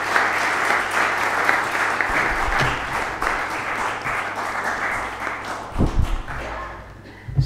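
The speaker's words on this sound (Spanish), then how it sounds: "Un aplauso, por favor." An audience at a comics symposium applauds steadily after a talk, a dense, sustained round of clapping from a full room that thins and fades toward the close.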